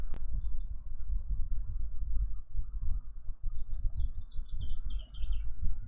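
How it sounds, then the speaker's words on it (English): Small birds chirp faintly in the distance outdoors, a few scattered high tweets rising over a steady low rumble of background noise, with no talking. "Yes, birds, I know you're out there."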